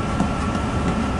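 Steady, loud rumble of a train interior rolling along the rails, a dense continuous roar with no voices.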